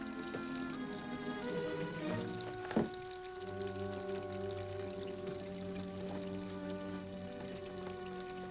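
Water poured into a glass, a faint, quiet trickle with a rising tone as the glass fills, set against a low background hum.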